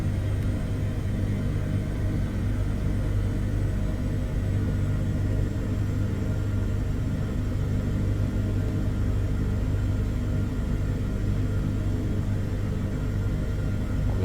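Helicopter engine in Microsoft Flight Simulator 2020, with throttle raised a little for collective, giving a steady, continuous low rumble and drone that holds even throughout with no talking.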